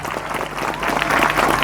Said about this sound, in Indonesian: Tepuk tangan untuk Miftahul Huda.